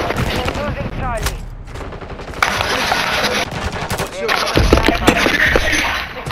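Dense automatic gunfire rattles through a Modern Warfare 3 multiplayer match, loud and close throughout with overlapping bursts and shots, while a voice shouts faintly in the mix.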